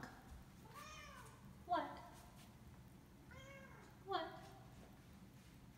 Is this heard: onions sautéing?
no